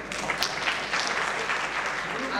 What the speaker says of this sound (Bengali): মনোযোগ একটু হাততালি দেন।